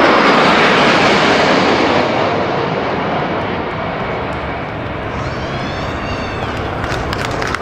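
Military airplanes fly overhead during a national celebration, a loud, continuous broadband engine roar that fills the whole stretch and eases slightly toward the end, with no voices over it.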